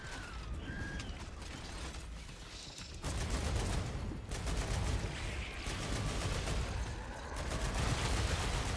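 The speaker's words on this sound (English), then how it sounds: "Quit firing from the hip." Rapid automatic gunfire in the sci-fi shooter Star Rupture, dense overlapping bursts that grow louder and more continuous after a few seconds, with mechanical clatter and brief gaps, no voices over it.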